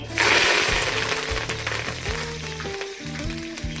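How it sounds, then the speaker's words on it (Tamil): Onion and curry leaves fry in oil for chicken biryani, giving a close, crackling sizzle. A droning mechanical whine with shifting pitch runs over the sizzle, and no one speaks. "இதில் நல்லா பொரியட்டும் லேசாக வதக்கி விட்டுக்கிட்டேன்"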